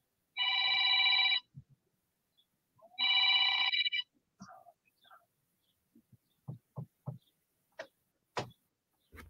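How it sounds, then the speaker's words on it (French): A telephone rings twice in an otherwise quiet indoor room during a conversation, each ring a loud sustained electronic trill lasting about a second, followed by faint scattered knocks and rustles. "il y a le téléphone qui sonne."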